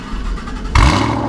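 A Ford Mustang engine cranks and catches suddenly, jumping from a quiet idle-like hum to a loud, close, rumbling start with rising tone.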